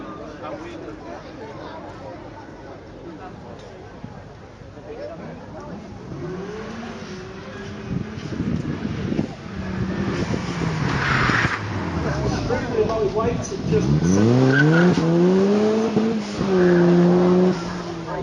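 A road-legal four-cylinder car with a 2-litre Ford EcoBoost engine and no windscreen drives past, engine note rising and falling through gear changes, growing louder toward the end, with someone talking over it.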